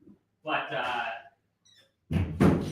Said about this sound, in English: apologies, I'm just going to close the door here